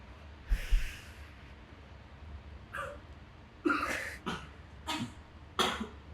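Several short, sharp coughs scattered across a quiet background, each a brief burst, some spaced apart and a couple close together, fairly faint.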